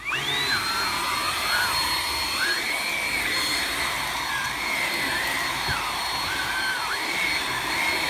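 Hart HPVSV50 cordless 20V stick vacuum with a 4Ah battery running close by, a steady high-pitched motor whine and airflow rush whose pitch dips and rises repeatedly as it works.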